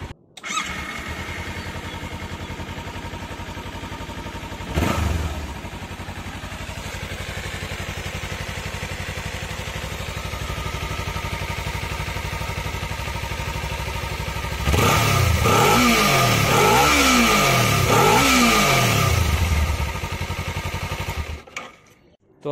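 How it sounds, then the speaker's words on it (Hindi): A 2018-19 Kawasaki Ninja 300 parallel-twin motorcycle cranks and starts, then idles with a smooth, steady hum before being revved several times in quick rising bursts near the end, with someone talking over it. "तो अब शुरू करने जा रहा हूँ मैं Kawasaki Ninja 300 parallel twin cylinder को।"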